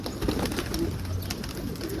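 Pigeons coo and flutter in a loft where a young bird has been raised, a steady low murmur of several birds close by, with no one speaking.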